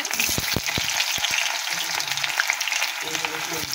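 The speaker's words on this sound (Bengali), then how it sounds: "ওই পেঁয়াজগুলোকে লাল লাল করে আমরা ভেজে নেব" Chopped onions frying in hot oil for beresta, a dense steady sizzle with intermittent clinks and scrapes of a stirring spoon in the pan.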